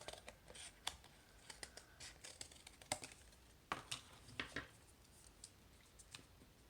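Scissors cutting through extra cardboard for an elementary art collagraph project, sounding as a run of quiet, irregular snips and scratchy clicks spread across the moment, close by with no talking.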